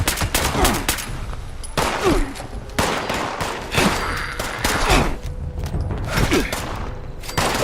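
Gunfire from the Fallout 76 video game during a fight with Scorched enemies. Loud, continuous bursts of rapid shots fill the whole stretch, with dense overlapping blasts and thuds and no talk.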